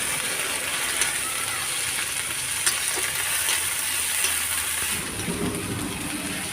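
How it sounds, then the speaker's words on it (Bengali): A paste of garlic, ginger and onion sizzles and crackles steadily in a hot pan, loud and continuous, with occasional stirring scrapes and a brief change near the end. "রসুন আদা পেঁয়াজ বাটা ভালো করে ভাজো"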